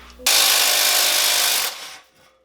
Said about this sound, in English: Say we give the old brand new DeWalt Impact a little try.